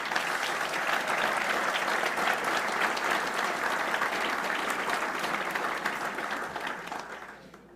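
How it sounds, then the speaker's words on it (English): Warm applause from the crowd at an annual golf classic fundraiser, sustained even clapping for several seconds that fades out toward the end, no voices on top. "I'd also like to ask Al's golf committee to please stand for a warm round of applause"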